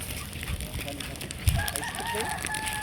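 Chickens cluck and crow nearby, with a rooster's call rising over a busy outdoor background.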